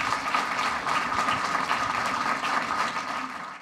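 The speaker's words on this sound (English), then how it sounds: "Let's give Valerie Ervin a big round of applause." A town hall audience applauds at an elementary school, a steady wash of many hands clapping at even volume throughout, tapering slightly at the close.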